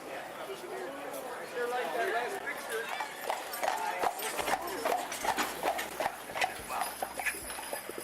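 Horse hooves clop steadily on pavement nearby on an island with no motorized vehicles, a sharp repeated rhythm under constant crowd chatter and talking.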